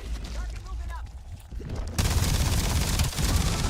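Gunfire from a weapon in a video game, a dense burst of rapid shots that grows louder and fuller partway through and carries on steadily to the end, with no voice over it.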